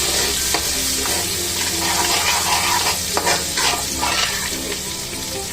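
Ginger-garlic paste with asafoetida sizzles steadily in a hot pan for pav bhaji while a spoon stirs it, giving a loud, close, continuous frying hiss with intermittent scraping strokes.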